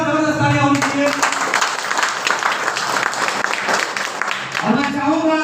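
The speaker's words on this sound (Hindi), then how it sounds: "एक बार आप सभी लोगों के लिए जोरदार जबरदस्त तालियां होनी चाहिए।" Loud, sustained applause from an audience at a business plan presentation event, dense clapping filling the stretch with a host's voice heard briefly at the start and end.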